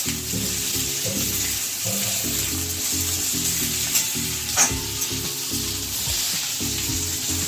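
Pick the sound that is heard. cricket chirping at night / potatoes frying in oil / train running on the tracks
potatoes frying in oil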